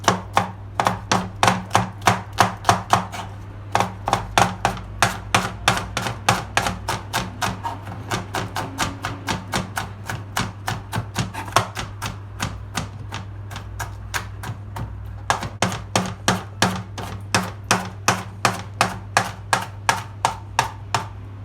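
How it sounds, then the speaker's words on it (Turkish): Peppers are chopped by hand with a knife on a cutting board in a home kitchen, producing rapid, even strokes in long runs with a short pause, sharp and close, with no talk. "Biberlerimizi de doğradık."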